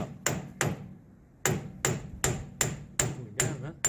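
Metal hammer blows on a Manitou machine part under repair, about eight sharp ringing strikes in uneven clusters, close and loud, with brief pauses between groups.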